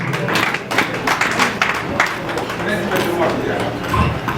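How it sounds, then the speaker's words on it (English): Continuous, dense clapping from an audience at an ORAUSA event as a person walks up to the front. The applause is loud and sustained throughout. "Clap for him while he walks up."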